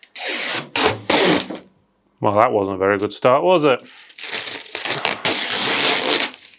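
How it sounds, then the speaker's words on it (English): Protective plastic film peeled off the glass side panel of an NZXT H510 Flow PC case, giving loud, close crackling bursts before and after someone briefly speaks. "take off this little plastic strip here, or should I say cover, to protect the glass"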